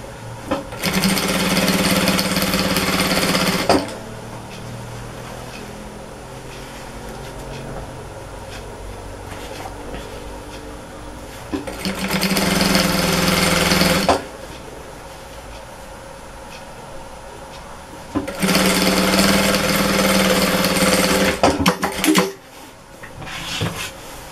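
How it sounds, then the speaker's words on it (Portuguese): A sewing machine stitches the edge of a fabric bread basket in three bursts of rapid, steady whirring, each several seconds long, separated by quieter pauses filled with handling and fabric rustle; no one speaks. "aqui vai ser uma costura pé de máquina"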